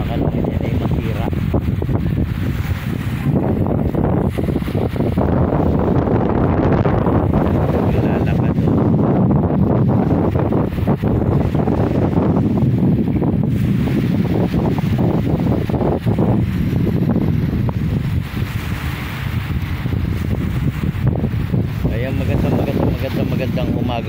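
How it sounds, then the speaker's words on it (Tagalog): Strong wind at Manila Bay buffets and roars across the microphone without letup, loud and close, while a person talks intermittently underneath. "Malakas ang hangin."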